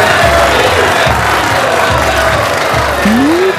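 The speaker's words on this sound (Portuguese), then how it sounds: "Muitas palmas." A dense, loud carnival crowd roars and applauds steadily during Viradouro's 1992 samba school parade, with a whistle rising near the end.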